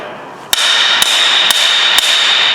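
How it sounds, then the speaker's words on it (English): Four sharp metallic hammer strikes on a Tekton pry bar's strike pad ring out at even intervals, each followed by a bright, sustained high ring. "So I just did a simple test and just sort of took a hammer"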